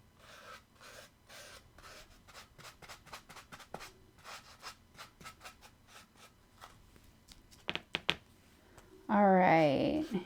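A paintbrush scratches rhythmically while paint goes onto a pumpkin planter, a soft, close, repeated rasping of strokes, ending with a short burst of louder sound.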